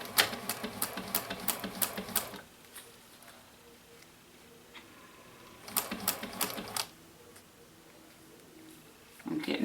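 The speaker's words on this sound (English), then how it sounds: "And I am going to back stitch." A sewing machine back stitches a tote bag in two quick bursts of rapid, close stitching, with a quiet pause between them and a third burst starting at the end.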